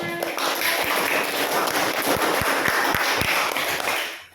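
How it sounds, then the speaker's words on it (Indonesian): Children in a primary school classroom clap their hands together, a dense sustained patter of many hands with a few sharper claps standing out near the end before it fades. "Oke, tepuk tangan"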